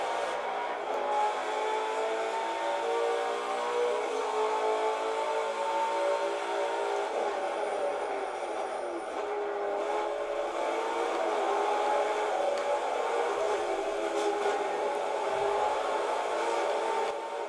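A car engine drones and revs steadily throughout a driving video game running on a Mi Notebook Air 13 2017 laptop with Nvidia MX150 graphics, a continuous mid-loud roar with no talking.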